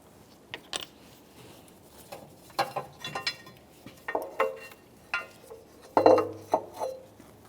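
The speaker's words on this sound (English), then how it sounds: "Now we can finish removing that mounting bolt and remove the upper mounting plate." Metal tools and parts clinking while an engine mount bolt is removed and the upper mounting plate lifted off a 1994-1997 Honda Accord, with scattered sharp clanks and taps at irregular intervals, close by.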